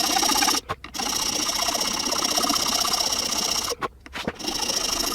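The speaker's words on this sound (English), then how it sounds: "I'm gonna go at this with a file now and try to flatten everything off." A hand file rasps across a block of wood in quick repeated rough strokes, steady and close, broken by two brief pauses.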